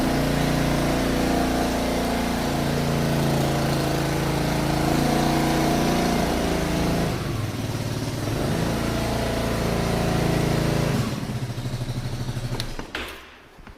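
Steady, close idle of a twist-and-go motorbike engine with an even low throb, then a brief change in its sound near the end before it cuts off.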